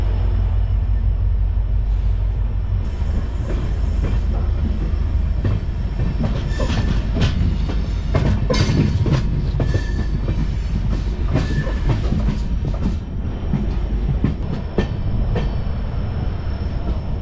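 The Jan Shatabdi Express between Guwahati and North Lakhimpur runs on rails with a loud, steady rumble, rhythmic clickety-clack of wheels over joints and occasional brief squeals, heard close from on board.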